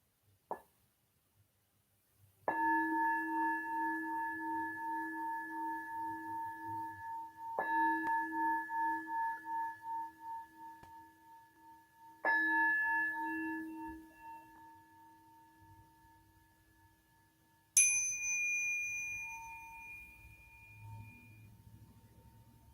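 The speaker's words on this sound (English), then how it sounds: "We're going to begin with 3 sounds of the bell." A meditation bell is struck three times at the opening of a livestream session, each clear ring sustaining and slowly fading before the next; a brighter, higher chime follows near the end.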